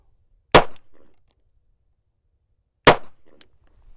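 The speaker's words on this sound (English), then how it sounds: "Usually if you're shooting 1 every 2 seconds," Two sharp handgun shots fired at a steady pace during defensive target practice, each a loud crack followed by a short echo, spaced about two seconds apart with quiet between.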